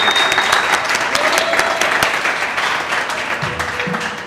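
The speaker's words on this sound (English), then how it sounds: "can we give a round of applause to Krishna?" A room full of people applauds for Krishna at a studio launch celebration, steady dense clapping filling the space at moderate volume before thinning slightly toward the end.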